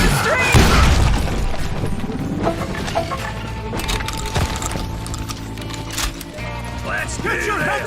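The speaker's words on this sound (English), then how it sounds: "They're shooting in the street!" Gunfire breaking out in a street in a cowboy video game, booming shots and cracks at varied distances amid a busy clatter, with someone talking over the action.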